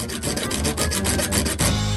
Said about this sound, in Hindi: ये चाकू बहुत छोटा है, यहाँ कुछ अच्छी चीज की जरूरत है। आरी ठीक रहेगा